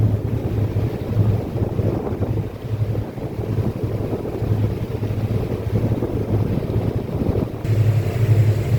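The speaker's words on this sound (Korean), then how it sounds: "지금 요트들이 한산도 쪽으로 오고 있는데 통영 아마 마리나 리조트 쪽에서 오고 있는 요트들로 보입니다." Motor yachts under engine power cruising the sea near Hansando, off Tongyeong, heard as a steady low engine drone mixed with wind buffeting and the wash of water, continuous with a slight rise at the end.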